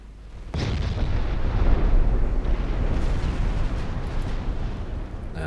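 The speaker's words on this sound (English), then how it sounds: "Let's just fire off the remaining HE ammo." Warship main guns firing high-explosive shells in the naval game Ultimate Admiral Dreadnoughts, in a 1960 China campaign battle. After a brief quiet start, a loud, sustained barrage of overlapping booms and rumbling blasts runs to the end.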